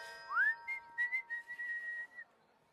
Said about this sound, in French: j'adore siffler en travaillant